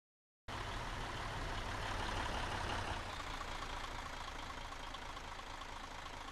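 A KamAZ truck's diesel engine in Arma 3 starts up abruptly and then runs loud and steady. A dense rumbling drone holds for several seconds with no talk over it.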